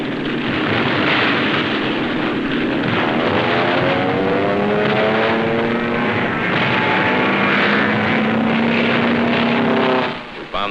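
A World War II military propeller airplane over Tarawa drones loudly and continuously, its engine note rising and shifting in pitch as it passes close overhead before cutting off abruptly.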